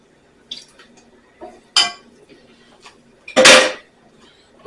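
Kitchen prep for unstuffed cabbage rolls: a few sharp clinks and scrapes as white vinegar goes into a pot and gets stirred, with a louder clattering burst near the end, close and without talk.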